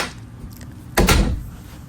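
A repaired door being swung shut, one solid thud after quiet surroundings, followed by a short fading rattle, close by and with no talking.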